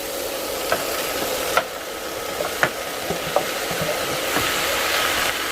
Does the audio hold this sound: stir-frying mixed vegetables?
yes